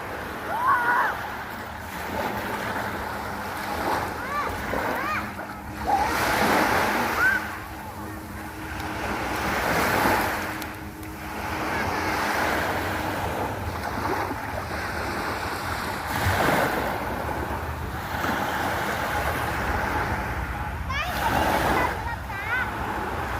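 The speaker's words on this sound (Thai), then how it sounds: "ฟังเสียงน้ำคลื่นกระทบฟังครับนี่ครับ" Surf washing onto Jomtien Beach in Pattaya, Chonburi, Thailand, heard as broad rolling swells that rise and fall every few seconds amid wind buffeting the microphone.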